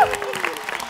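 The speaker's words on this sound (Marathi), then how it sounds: "त्या साई जणांसाठी जोरदार टाळ्या होऊ जाऊ दे" A short burst of studio-audience clapping on a Marathi TV game show, brief and fairly even, with a voice heard over it.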